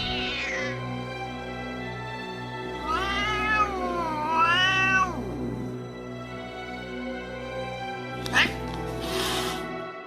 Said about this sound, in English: the normally affectionate cat suddenly turned into the devil's cat